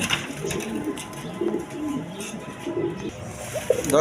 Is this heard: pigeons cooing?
yes